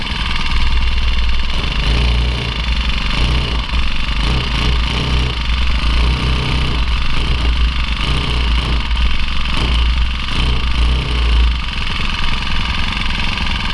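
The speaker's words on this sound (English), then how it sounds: "I do like the way 4-cycle small motors like the sound, though" A Craftsman push mower's 4-cycle small engine warms up after a cold start, holding a steady, close, loud idle with a slightly uneven throb for the whole stretch.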